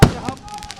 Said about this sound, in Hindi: पटाखे फोड़े जा रहे हैं